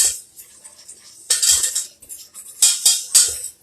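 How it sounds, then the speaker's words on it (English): Butter and flour paste being whisked in a pan for horseshoe sandwich sauce, with bright scraping and clinking metal strokes against the pan in quick uneven bursts, close and fairly loud. "Whisk that in."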